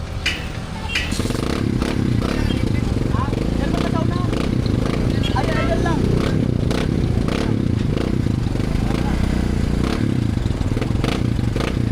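A motorcycle engine runs steadily close by, with clattering and scraping noises, beneath people chatting throughout.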